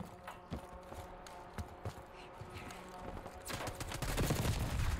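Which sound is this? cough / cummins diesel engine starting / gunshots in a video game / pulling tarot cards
gunshots in a video game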